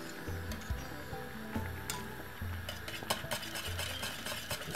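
Cornmeal porridge with milk being stirred in a pot, giving a soft, irregular scraping and swishing that continues throughout, close by and fairly quiet, with no speech.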